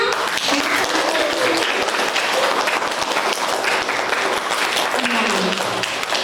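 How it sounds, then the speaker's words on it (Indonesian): Loud, continuous applause from a gathering at a school event in a museum, many hands clapping densely, with voices mingled in the crowd. "Boleh tepuk tangannya?"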